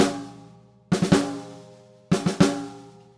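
Lazy drags on a snare drum, grace notes spaced a little wider than usual before each main stroke, played twice in three-hit clusters with ringing decay and a pause between, close-up with no talk.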